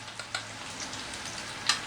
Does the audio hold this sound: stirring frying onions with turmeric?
yes